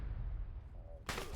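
A single heavy artillery blast in the Arma 3 military game cracks out suddenly near the end, loud and broadband, after a stretch of low rumbling quiet.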